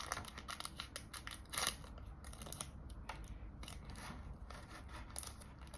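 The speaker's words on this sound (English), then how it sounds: "let's just grab some scissors and quickly just" Scissors snip repeatedly through a Pokémon Regidrago V card pack's foil wrapper up close, with crinkly tearing and rustling mixed into the steady, dense cutting noise.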